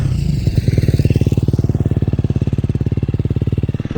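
A KTM 350 XCF dirt bike engine revs hard and close, its rapid, evenly pulsing exhaust note held loud and steady for several seconds.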